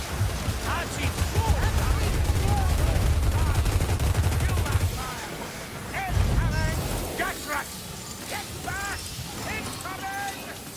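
Skaven ratling gunner firing in the video game Vermintide 2, a dense rapid stream of gunfire for several seconds that breaks off and resumes, mixed with game combat noise and character voices.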